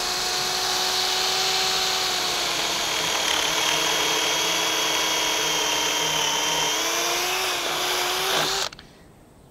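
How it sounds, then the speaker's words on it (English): A power drill bores steadily into a pergola post, drilling about 130 mm deep, its loud continuous whine holding for around eight seconds before cutting off abruptly. "we just want to drill down about the length of our drill bit"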